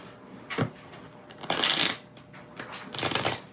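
Everyday Witch tarot cards shuffled in three quick riffling bursts with short pauses between, close and moderately loud, no talking.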